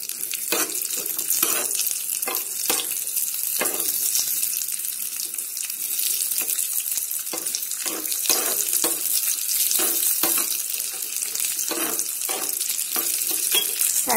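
Raisins frying in a pan for chakkara pongali: a steady, bright sizzle runs throughout, broken by repeated scraping stirs at an irregular rhythm, close and fairly loud, with no voices.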